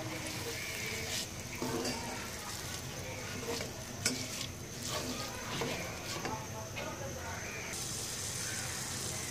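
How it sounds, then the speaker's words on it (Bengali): A washed rice and mung lentil mix is fried in a pan, giving a steady close sizzle with scraping stirs and a few clinks throughout. "চালটা একটু ভেজে নিব।"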